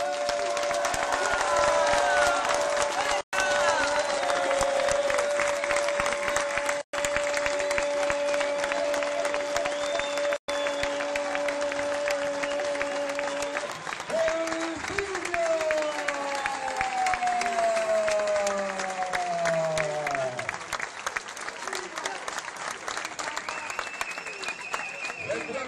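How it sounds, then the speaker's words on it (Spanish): Crowd applauding a boxer at a boxing event in Lugo, a dense, sustained wash of clapping and cheering that fills the hall for most of the stretch, with a few abrupt cuts, then thins toward the end while a voice and tonal sounds come through. "Agora sí quero que todo o mundo aplauda porque é o representante do Boxing Club Cidade de Lugo"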